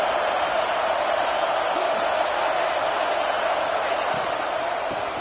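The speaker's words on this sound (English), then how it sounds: "here comes the noise. This crowd is trying to inspire this defense to make a big red zone stop." A stadium crowd cheering loudly in a college football video game, a dense, sustained roar of noise that fills the whole stretch at steady volume.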